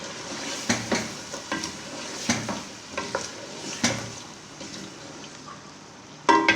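Potatoes fry in an open pan over a medium flame for aloo palak, a steady low sizzle broken by a series of spatula scrapes and clacks against the pan, with a sharper stroke at the very end; no one talks.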